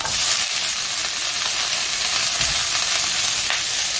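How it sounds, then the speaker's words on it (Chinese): Melon seedlings hit a hot wok with ginger and garlic and sizzle loudly and continuously, a dense close-up hiss of stir-frying with faint scraping as they are tossed, no voices. "爆香一下，跟住落翻啲龍須菜落去啊！"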